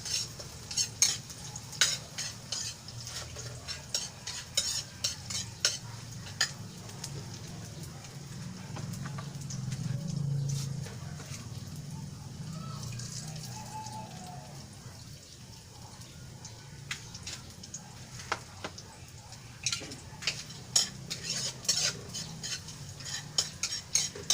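Ingredients fry toward golden brown in a pan over a wood fire in an outdoor dirty kitchen, a steady sizzle under frequent scraping and clinking from a utensil stirring against the pan throughout.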